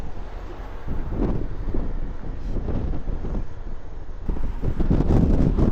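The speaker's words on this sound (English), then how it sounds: "now the wind is really strong again, like it's literally pushing" Strong wind in Iceland roars and buffets the microphone in a steady, loud rush, with gusts surging louder toward the end and no voices.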